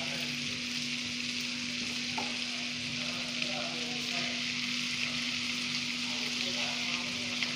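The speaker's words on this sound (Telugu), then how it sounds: "ఇప్పుడు బటర్ కరుగుతుంది కదా, ఒక్కొక్కటి జాగ్రత్తగా ఫిషెస్ దీంట్లో వేస్తున్నాను." Fish pieces fry in melted butter in a pan with a steady, even sizzle and crackle. A constant low hum sits underneath at moderate volume.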